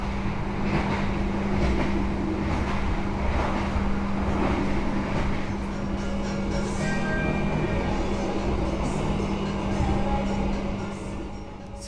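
Steady, loud rumble from the stainless steel bogie of a K1 coach on the Bima night train between Madiun and Surabaya, heard with the cabin door open. It continues evenly throughout, with a constant low hum underneath.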